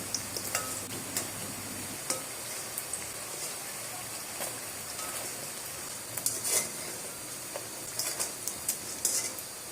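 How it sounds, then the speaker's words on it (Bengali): Old Dhaka meat cakes (pitha) fry in a pan with a low sizzling hiss, dotted with frequent scrapes, taps and clinks from turning them with a utensil. "এভাবে করেই সবগুলা পিঠা আমি এক এক করে ভেজে নিচ্ছি।"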